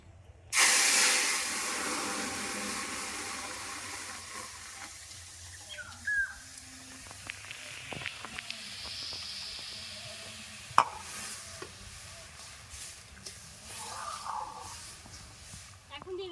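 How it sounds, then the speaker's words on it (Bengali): Masoor dal hits a hot pan in a Bengali village kitchen with a loud sudden sizzle that settles into a steady hiss and occasional stirring clatter, with a voice speaking over it. "ডালটা এখন দিয়ে দিচ্ছি"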